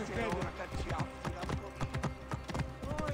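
A horse's hooves clip-clop in a quick, steady rhythm in the video game Assassin's Creed Origins, close and clear, with a voice talking over the gallop.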